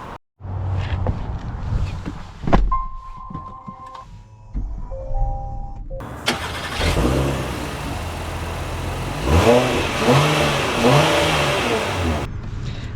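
A 2025 Acura MDX: a few soft electronic chimes and cabin clicks come first, then the engine picks up with a swelling hum that rises in pitch as the vehicle accelerates, heard from inside the cabin.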